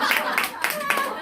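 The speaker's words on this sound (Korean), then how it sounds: "박수 한번 주세요." A small group clapping their hands in a fitness class, a short burst of several quick, close claps overlapping with a voice speaking.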